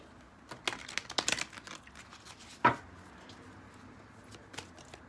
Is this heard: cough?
no